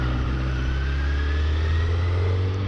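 A Honda CBR1000RR Fireblade sportbike accelerating hard, its engine note held loud and close throughout with a steady, rising rev and no talking over it.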